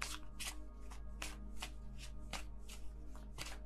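Tarot cards being shuffled by hand in a series of rapid riffling bursts, close and fairly loud, repeating about every half second with no talking.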